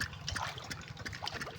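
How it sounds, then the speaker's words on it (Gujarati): Irrigation water flowing through a wheat field, a faint soft trickle and gurgle running continuously outdoors. "ઘઉંમાં પાણી હાલતું થઈ ગયું કાયદેસર"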